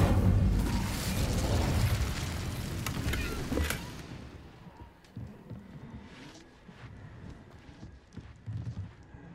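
An Incendio fire spell cast in Hogwarts Legacy, a loud roaring burst of flame for about four seconds that drops away into quieter scattered game sounds and soft thuds.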